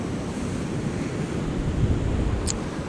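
Stormy sea swell and backwash at Southbourne Beach make a continuous low rumble and wash of surf, with wind buffeting the microphone throughout.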